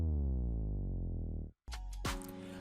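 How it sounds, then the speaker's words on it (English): A sub bass drop effect from an FL Studio beat, a deep sustained boom sliding downward for about a second and a half before cutting off, followed by a short burst of other beat sounds. "SFX sub bass drop that was also used at some point in this song"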